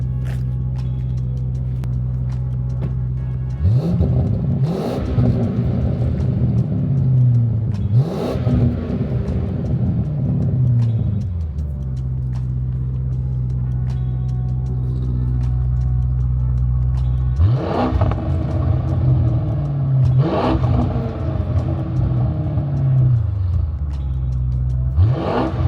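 A Porsche Cayenne GTS with a fully fabricated valved exhaust revs repeatedly, a deep steady idle rumble broken by rising and falling blips, first muted with valves closed and then rorty with valves open, loud and near throughout.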